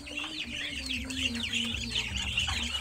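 Muscovy ducklings being offered green feed, a busy chorus of high peeping chirps, close and continuous, with a faint low voice underneath.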